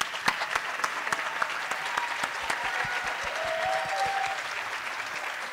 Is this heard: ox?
no